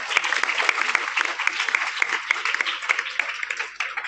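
Audience applause at a motivational seminar held at a school, a dense run of many hands clapping with uneven peaks, moderately near and without speech.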